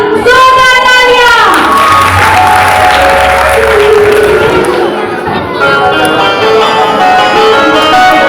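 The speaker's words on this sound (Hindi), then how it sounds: "तो जोरदार तालियों से स्वागत कीजिए माता रमाबाई अम्बेडकर महिला संघ का" Audience applause welcoming a women's association's stage play about Siddhartha's renunciation, a steady dense clapping that runs throughout, with a voice speaking over it near the start.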